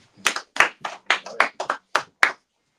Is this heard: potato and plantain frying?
no